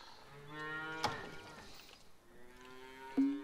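Cattle in the video game Farmer's Dynasty moo in a long, drawn-out low call, followed by a second moo starting near the end, over a faint steady background.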